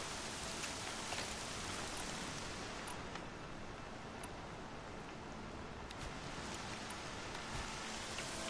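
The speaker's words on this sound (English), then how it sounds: "Here comes the rain." Steady rain pours in the Horizon Zero Dawn game world, a dense, even hiss of falling water with faint ticking drops throughout, no voices over it.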